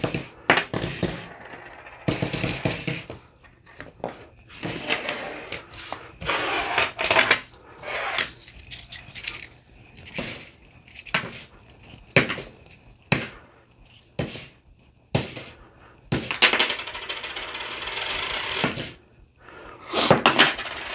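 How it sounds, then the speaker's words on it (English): Gold coins drop and clink in repeated bursts, bright metallic jingles separated by short silences, close and fairly loud with no talking. "we're going to listen to the sound of gold"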